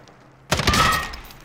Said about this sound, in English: This is the sound of the armor.